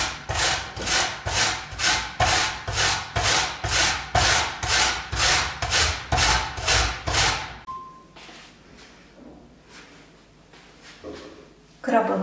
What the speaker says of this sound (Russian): первое, что мы будем делать, это натирать на мелкой терке крабовое мясо